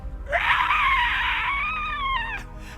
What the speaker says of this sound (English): you hear this kind of utter terrifying screeching sound that kind of sends a chill down your back